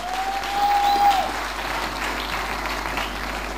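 Church congregation clapping during a testimony service, a steady, dense wash of applause that holds evenly throughout.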